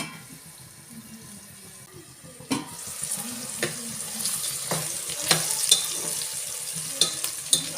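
Onions fry in a pan until brown. A soft sizzle rises after a sudden clatter and continues under scattered stirring scrapes and taps, close and moderately quiet with no talk.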